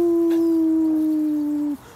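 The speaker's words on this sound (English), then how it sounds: "Are we going to howl today?" A dog gives one long, loud, close howl that holds a steady pitch, sliding slightly downward, for nearly two seconds before cutting off.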